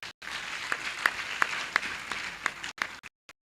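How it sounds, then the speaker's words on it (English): Applause at a university graduation congregation, a steady patter of clapping from the audience with a few sharper individual claps standing out, cutting off abruptly near the end. "This deserves an applause."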